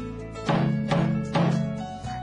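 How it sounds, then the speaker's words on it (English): A deep Korean traditional drum is struck three times at an even pace, each hit booming and ringing out with a warm, resonant tone before a softer final tap. "Sounds like a drum to me."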